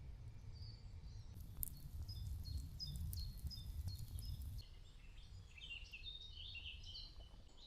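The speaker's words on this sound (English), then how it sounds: "Nothing quite like waking up in nature, hearing all the birds chirping." Birds chirp and twitter faintly at a quiet wild camp in the morning, with scattered high calls over a soft, low background rumble.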